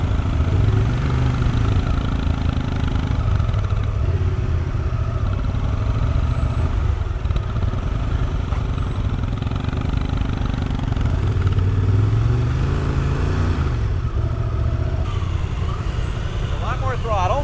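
Honda Transalp 750 motorcycle engine running steadily and close by, a constant mid-low drone held with throttle on, while people talk over it throughout.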